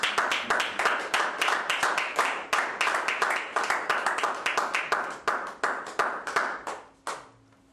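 A church congregation applauds in steady, rapid clapping that fills the room, loud and continuous for several seconds before tapering off abruptly near the end.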